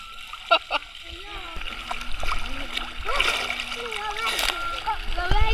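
Water splashes and sloshes in shallow sea water at Tondol beach resort in Anda, Pangasinan, with sharp close splashes at the start and continuing churning; people shout and talk throughout.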